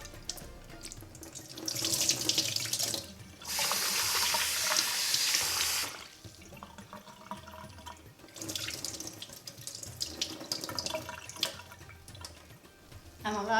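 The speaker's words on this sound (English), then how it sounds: "I'll rinse the rice until the water runs clear." Jasmine rice being rinsed under a running kitchen tap, with water gushing into a sink in loud bursts around 2 to 6 seconds, then a steadier trickle and splashing as the grains are swished.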